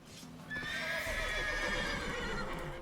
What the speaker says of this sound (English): You mind the mad horses over there?